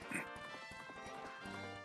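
Galloping horse in a race from The Legend of Zelda: Majora's Mask, a rapid faint clip-clop of hooves set against game music, with a brief whinny-like cry near the start.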